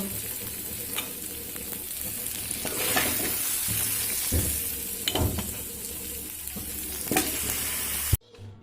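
Rice and vegetables are stirred into simmering dal for vegetarian winter-vegetable khichuri, giving a continuous frying sizzle with scraping stir strokes at intervals before the sound cuts off abruptly at the end.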